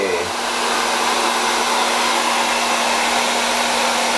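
A hair dryer blowing a spinning balloon, a loud steady whirring hum with a constant tone, running evenly and close up for the whole stretch.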